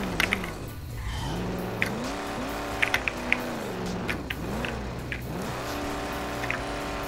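A car engine in the Garry's Mod video game revs up and down repeatedly through rising and falling gear changes, loud and continuous, with occasional sharp clicks over it.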